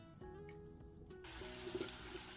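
Water rushes from a tap into a pot of bean-cooking broth, a faint hiss that swells into a steady, fuller pour after a quiet clatter at the start.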